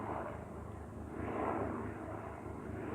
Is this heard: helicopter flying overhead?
yes